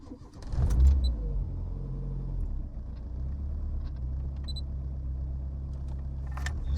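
A forged-internals RS car, raised on stands, cranks and fires with a loud burst, then settles into a steady, deep, rumbling idle close by, with a few faint clicks and no talking.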